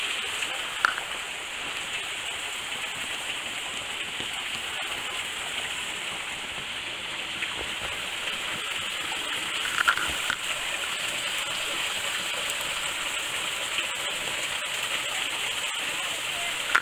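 Water runs beneath winter ice at Burden Falls, a steady rushing hiss with faint trickling, close and continuous, with occasional light crunches and a voice speaking nearby.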